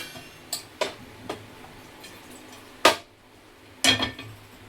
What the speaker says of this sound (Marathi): आता इथे मी पॅन ठेवते.